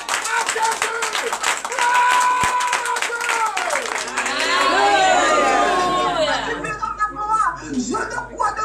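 A church congregation claps and cheers during a morning prayer service, with loud, rhythmic group clapping and lively crowd voices building to a peak midway, then easing into scattered chatter and sound.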